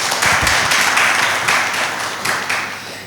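An audience applauds puppeteer and storyteller Yaya Coulibaly at a café gathering, loud dense clapping that holds steady for a few seconds and eases slightly toward the end.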